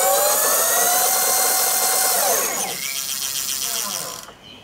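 A K-Rider e-bike prototype's electric drive whirs loudly with a rising whine, holds steady, then winds down and fades near the end, heard up close.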